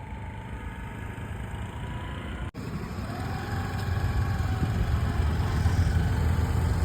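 A scooter engine hums steadily during a riding lesson in Rohini, Delhi, then builds gradually louder as it accelerates, a mid-distance drone with no voices over it.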